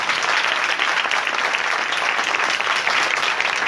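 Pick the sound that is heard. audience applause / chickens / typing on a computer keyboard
audience applause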